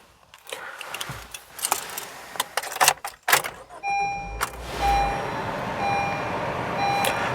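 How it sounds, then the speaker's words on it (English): Interior of a 2022 Honda HR-V Sport as it is started up with the air conditioning switched on: clicks and handling noises, then a series of steady electronic chimes over a rising fan whoosh, close and fairly loud. "Start up the vehicle, get the AC going."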